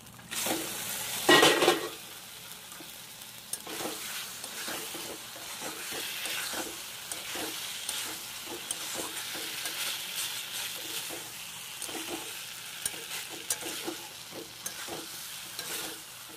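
Steady sizzling of chicken in spiced masala in a hot pan, with an early louder burst of frying and occasional stirring scrapes over the hiss.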